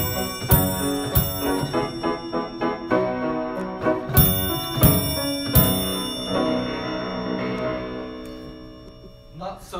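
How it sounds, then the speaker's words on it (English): Bright bell chimes strike repeatedly over a tune played on a keyboard instrument, the tones ringing and decaying, growing softer toward the end. "you can ring the bell and beat the drum"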